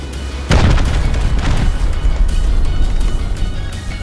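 Napalm explosions in Rust: a loud booming blast, a second burst a second later, then sustained roaring and crackling noise, with no speech.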